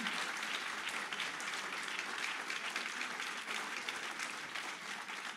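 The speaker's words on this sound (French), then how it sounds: "On vous applaudit chaleureusement." An audience claps warmly after a talk, a dense, even wash of applause held at a steady level throughout, heard from a slight distance with no voices over it.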